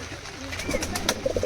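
Giribaz pigeons, a male and a female, give soft cooing calls, with a few short, close coos near the end over a low background hum.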